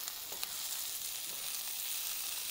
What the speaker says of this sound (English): cooking onions and garlic.